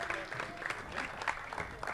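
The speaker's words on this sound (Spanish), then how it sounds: "MSB, fuerte aplauso" Spectators at a robot maze competition clap for the next entrant, a light, uneven scatter of hands with irregular peaks, fairly faint and distant, alongside some indistinct voices.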